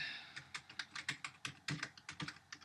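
Code being typed on a computer keyboard, with quick, steady, close key clicks in an even rhythm, alone and fairly quiet.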